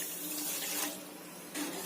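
Water pours steadily into a pan of sugar, making syrup for jalebi, with a soft, close splashing trickle that stays brief and fairly quiet throughout.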